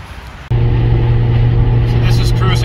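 A Mazda Miata with a custom exhaust cruises steadily at about 70 mph and 3,800 RPM, a loud, constant drone that starts abruptly after a brief quieter moment and holds alone.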